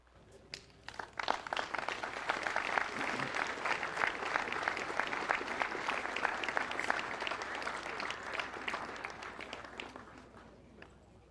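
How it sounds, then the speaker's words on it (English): A crowd at a Memorial Day ruck event in Fernley, Nevada applauds, clapping swelling quickly and holding steady for several seconds before tapering off slightly. "Give him a big round of applause."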